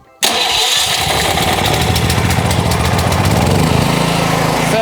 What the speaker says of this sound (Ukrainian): І все, ми можемо переходити до запуску генератора.